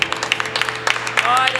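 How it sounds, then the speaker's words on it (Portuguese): A church congregation claps during a Baptist healing and deliverance service, the clapping near and irregular over a steady organ-like drone, with a voice speaking and faint sliding tones toward the end. "As suas palmas glorificam ao Senhor"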